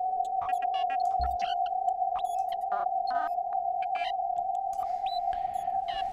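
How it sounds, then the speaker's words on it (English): Airwindows Galactic reverb plugin, with detune raised, produces a spacey ambient drone: a steady sustained tone with chirping, gliding blips and swooshes drifting over it. No voices are heard. "there we have another kind of space ambient sound from Galactic"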